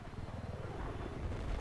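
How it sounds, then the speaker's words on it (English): A transport helicopter flies overhead in Battlefield on the Siege of Shanghai map, a deep, steady, pulsing rotor rumble that swells slightly toward the end, with no one talking. "transport chopper above us."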